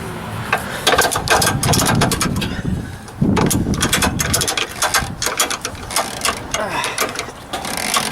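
A ratchet tightens a bolt on a car, giving a close, loud run of rapid clicking bursts. One short pause breaks the clicking, with no voices heard.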